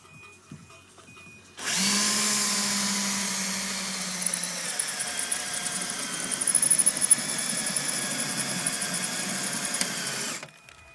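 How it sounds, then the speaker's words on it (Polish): A power drill whirs steadily at close range for about nine seconds, its high whine wavering slightly under load before stopping abruptly. "zdecydowanie zajebisty wiertło"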